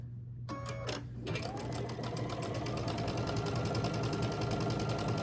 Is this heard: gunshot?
no